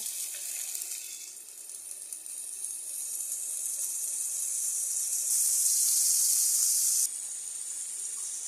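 Marinated chicken pieces sizzle in a little hot oil in a wok, a steady bright hiss that swells louder for a couple of seconds before settling back.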